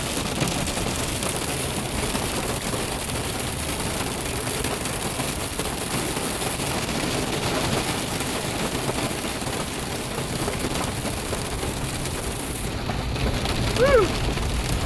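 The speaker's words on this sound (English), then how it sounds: "We're getting some rain." Steady, loud rain hisses and patters without a break on a farm during a hailstorm, keeping up a dense wash of noise, with a brief whoop near the end.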